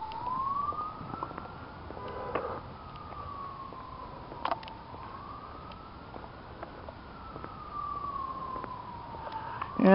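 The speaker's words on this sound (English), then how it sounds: "you hear the mysterious sirens" A police car or ambulance siren wails in slow rising and falling sweeps as it passes at a moderate distance, steady and fairly faint throughout.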